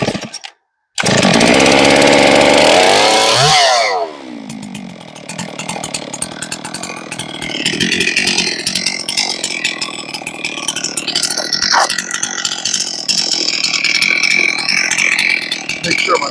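A freshly serviced chainsaw revs up loud and close, then settles into milling a huge pine log, with a continuous gritty engine drone and fluctuating cutting noise.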